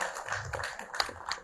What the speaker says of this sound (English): round of applause for Mr. Matanana.